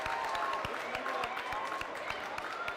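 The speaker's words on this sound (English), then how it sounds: "He was cheered off." Crowd applause in a high school boys basketball gym as a player exits the game, a steady dense clatter of many hands with sharp thuds and faint voices mixed in.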